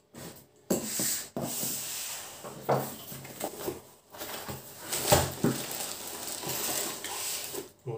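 Millenium DM1 speaker monitor stand parts being unboxed, with soft cardboard rubbing, rustling and light knocks close by, scattered and quiet, with no talking.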